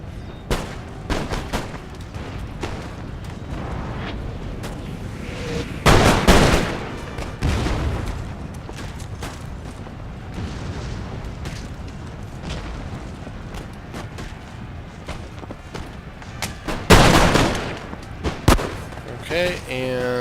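Musket volleys crack across an Empire: Total War multiplayer battle as infantry fire on the Coldstream Guard, with two loud, broad bursts among scattered shots and someone talking throughout.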